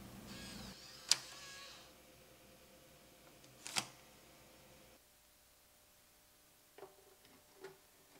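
A floppy disk is ejected from a Macintosh 8600 drive, making a quiet mechanical whir and two sharp clunks, then a few soft clicks, faint and close in a quiet room.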